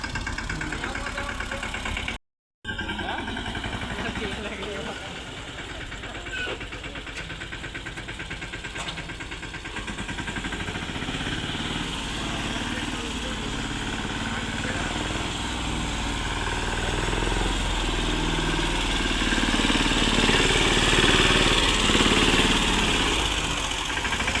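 A tractor engine idles steadily, a continuous low rumble with a brief dropout early on that grows slightly louder toward the end.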